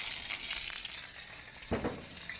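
A bacon-wrapped garlic coil sizzles on a barbecue under a closed lid, giving a soft, steady crackling fry with scattered pops, fairly quiet and without voices.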